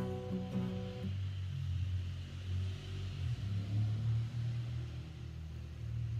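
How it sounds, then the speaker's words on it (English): Loud car passing outside, heard from indoors as a low rumble that swells and fades over several seconds, following a few faint piano notes at the start. "Was that necessary to have your car that loud?"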